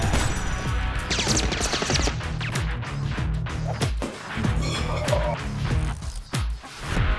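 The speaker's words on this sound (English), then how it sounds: "Gunfire." Sharp cracking gunfire effects burst repeatedly over a dense, busy mix that runs the whole time with steady loudness, a film production sound with no voices over it.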